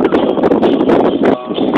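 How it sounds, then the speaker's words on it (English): Strong gusting wind of a desert sandstorm at the Buttercup dunes buffets the microphone in loud, rough bursts that surge and briefly ease, with no speech. "Got pretty windy, pretty sandy."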